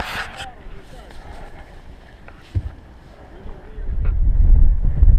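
A small homemade tugboat with a one-cylinder Yanmar diesel engine, off Cuba, approaches with a low engine rumble that swells loudly near the end, beneath gusty wind noise on the microphone.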